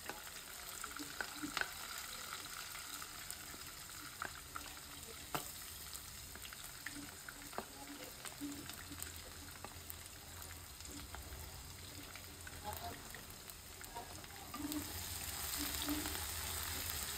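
Onions fry in a pan for a fish roe dish, a soft steady sizzle with scattered ticks and scraping stirs, swelling louder toward the end as more onion goes in.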